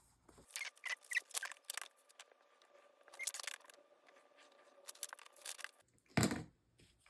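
Paper banner pieces being cut with scissors, a run of crisp snipping and crinkling strokes in close bursts, a short pause, then one louder rustle near the end; no voices.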